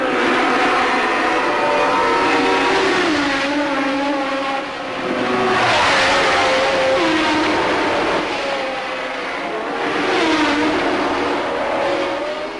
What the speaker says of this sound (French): Les deux Tyrrell roue dans roue ou presque, un spectacle habituel lors des journées d'essai